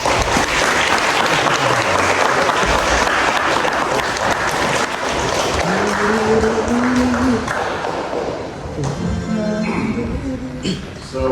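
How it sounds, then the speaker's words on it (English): Sustained applause from a congregation at a church Mass in Great Yarmouth, thick and steady at first then tapering off, with some brief tonal sounds and murmuring near the end. "Can we also give Grace another applause,"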